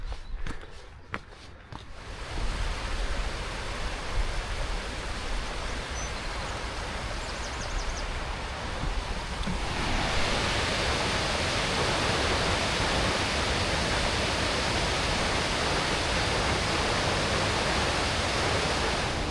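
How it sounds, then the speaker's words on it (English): A steady roar of rushing water from the Falls of Falloch waterfall on the West Highland Way in Scotland, swelling to a loud, continuous wash partway through after a few footsteps on a path. "So I think down here is the Falls of Falloch."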